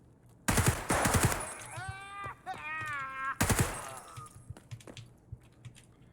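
A budget-built DT MDR .308 rifle fires in Escape from Tarkov: a loud, close burst of rapid shots, a ringing, wavering whine, then a second burst followed by fainter scattered cracks and rattles.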